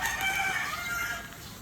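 A rooster crows among chickens at a rain-soaked yard, with a clear, harmonic call up close over steady background hiss from drizzle, fading after about a second.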